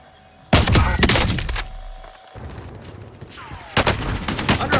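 Heavy video game gunfire in loud rapid bursts, with a dense opening volley, a lull of scattered shots, then another close burst near the end.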